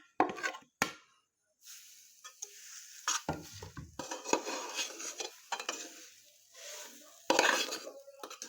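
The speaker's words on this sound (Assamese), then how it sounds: "যিমানে এইখিনি লৰোৱা যাব সিমানে বস্তুখিনি স্মুথ হ'ব" A spoon stirring grated coconut with cardamom in a pan over a low flame, with scraping and clinking strokes in irregular bursts separated by short pauses, close and fairly quiet.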